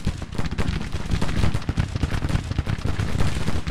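Massed Civil War musket and artillery fire from the Hold the Line battle game, a dense, continuous crackle of overlapping shots with heavy low booms, loud and without talk.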